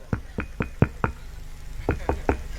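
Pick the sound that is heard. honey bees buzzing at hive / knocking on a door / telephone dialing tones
knocking on a door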